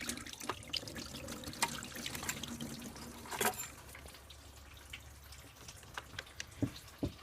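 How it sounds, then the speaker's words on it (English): Engine coolant from a 2002 Mazda Millenia drains into a pan during a thermostat replacement, giving a faint, uneven trickle with scattered drips and knocks, quiet and close. "that is the coolant falling down on the pan"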